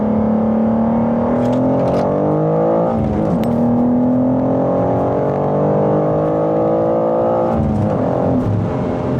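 A 2023 BMW M2 with an S58 engine accelerates hard through the gears, a loud, rising engine roar with two sharp breaks at upshifts before climbing again, heard from inside the car at high speed.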